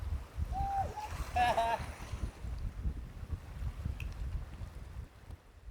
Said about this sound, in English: We knew the wind was coming in this afternoon, but whew, she has come in with a vengeance.